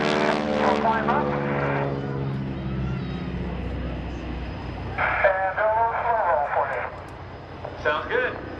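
A propeller aerobatic airplane performs a barrel roll at the 2016 NAS Oceana airshow, its steady engine drone running beneath continuous radio-style talk.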